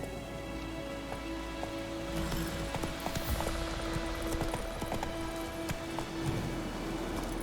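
Horse hooves clip-clop in The Witcher 3: Wild Hunt, a steady run of hoofbeats over continuous game rain and ambient drone, with no talking.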